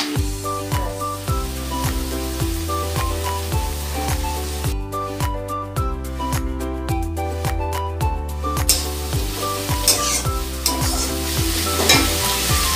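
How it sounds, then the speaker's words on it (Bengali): Onions sizzle steadily in a little oil in a pan while cooking Bengali-style chicken kosha, heard under continuous background music with no talking. "আমি ততক্ষণ ফ্রাই করবো যতক্ষণ না ইটস বিকাম ডার্কার শেড।"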